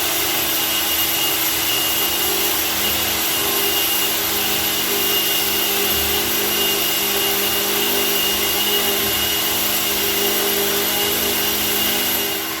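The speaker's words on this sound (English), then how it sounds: "that is how we sand underneath one of those radiator heaters" A floor sander works an old top-nailed wood floor underneath a radiator heater, making a loud, constant motor whine and droning grind that holds steady throughout, with no talking.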